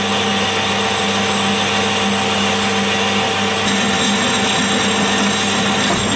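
A lathe takes a steady 1mm-per-side cut on metal for a hydraulic ram extension, giving a loud, continuous machining whine and hum that holds unbroken throughout with no talking.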